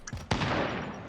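MAC-10 submachine gun fire in Warzone, a sharp close burst after a couple of lighter clicks, with a short echoing tail.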